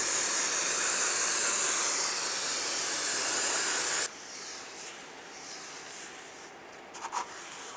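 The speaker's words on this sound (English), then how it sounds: "We're going to just brake clean that away." Brake cleaner sprays onto new front brake rotors for a 1992–1996 Ford F-150, a loud continuous hiss for about four seconds that cuts off abruptly, followed by quiet room tone and a few faint clicks.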